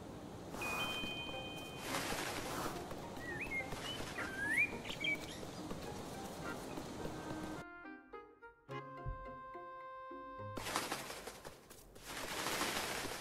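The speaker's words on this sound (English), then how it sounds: "Oh, there's so many crows." Crows in a video game caw in short harsh calls, with bursts of fluttering wings and a gap of soft chiming game tones in the middle, fairly faint and without speech.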